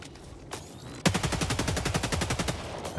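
Rapid automatic gunfire from Helldivers 2 erupts after a brief single shot, a loud, sustained burst of closely spaced shots.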